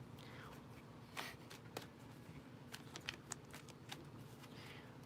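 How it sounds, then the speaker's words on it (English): Tarot cards shuffled by hand, soft crisp riffles and taps repeating close by at low volume, with no talk over them. "We don't want to distract you while you're shuffling."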